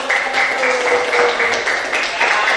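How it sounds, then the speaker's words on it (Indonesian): A group in a teacher-training class applauds one group's presentation, producing a dense, steady wash of many hands clapping that stays close and even for the whole short stretch. "Yuk, tepuk tangan."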